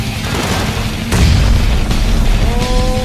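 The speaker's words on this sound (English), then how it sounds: "They popped up one of my wheels" A vehicle tire shot out and popped in PUBG: a sudden loud boom lands partway through, over a constant heavy engine and road rumble, followed by a thin whine as the car keeps driving, with no talk.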